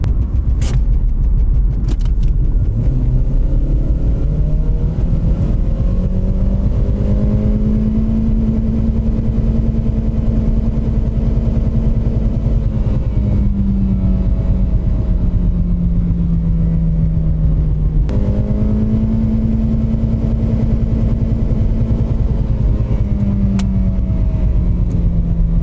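A $3000 Toyota Corolla engine runs under torture testing, holding a loud, steady rumble that climbs and falls through two long revs.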